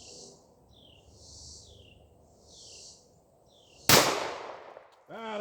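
A single sharp report from a Kimber Solo Carry DC compact pistol at outdoor target practice on a steel plate, loud and close, standing out over faint ambient noise and birdsong, followed by a brief voice.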